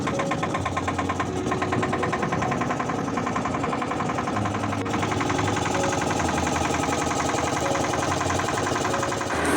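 A boat engine runs steadily with a rapid, close mechanical chugging that stays loud and continuous, a constant droning rumble with no break and no voices.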